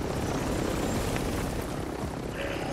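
A continuous helicopter rotor thrum fills the clip in Call of Duty: Warzone, steady and fairly loud with a low rhythmic chop.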